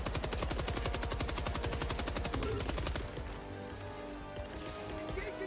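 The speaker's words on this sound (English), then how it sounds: "Bro was shooting at you and I died." Rapid automatic gunfire from a shooter video game, a dense continuous burst of shots that stops about halfway through, followed by quieter game sounds and explosions, loud and close.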